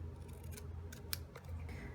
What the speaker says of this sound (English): with our paper snips, we're just going to cut a rectangle out around our word